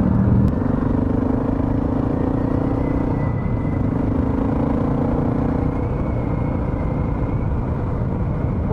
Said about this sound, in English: those darn mufflers.